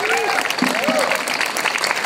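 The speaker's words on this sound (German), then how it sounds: "Applaus für Hans-Joachim Marx" Audience applause for a speaker being introduced at a talk, a steady dense clapping wash filling the short clip, with a brief voice or tonal sweep rising over it.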